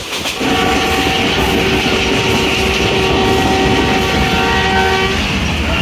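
A passenger train runs along the railway, loud and close, with a continuous rumbling roar and a sustained horn blaring over the steady clatter of the wheels.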